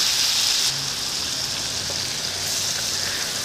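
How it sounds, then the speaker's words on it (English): Mantis shrimp sautéing in a pan of lemon butter, a steady close hiss and crackle of frying that holds evenly throughout with no one speaking. "Saute him around."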